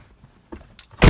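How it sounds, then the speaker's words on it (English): A 2012 BMW 650i door slams shut with a single loud, close thud, preceded by faint handling clicks and soft rustle. "shut the door"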